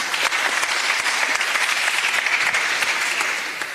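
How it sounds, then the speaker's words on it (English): Steady, dense applause from a festival gala audience, clapping for the film charity's staff, holds loud and even throughout before easing slightly at the end. "Let's clap for them."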